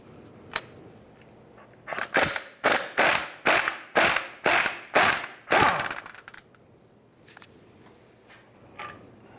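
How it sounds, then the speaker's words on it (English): Ratchet with a 15mm socket loosening the horizontal engine mount bolt on a 2001-2007 Ford Escape, about eight quick rhythmic clicking bursts in a row, close and clear, with no talking. "Using your 15mm deep socket or regular socket, you go ahead and remove the horizontal bolt here."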